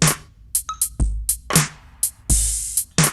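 Laid-back neo-soul drum machine pattern from the Astro Laidback preset, with sharp snare and hi-hat hits over deep kicks and a short tonal blip, played alone in a loose, relaxed groove.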